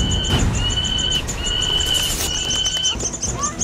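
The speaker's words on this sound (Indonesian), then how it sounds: "Burung alap-alap itu, kenapa?" A hawk (alap-alap) gives repeated thin, high whistling calls and chirps over a busy outdoor background hum, fairly close and clear throughout.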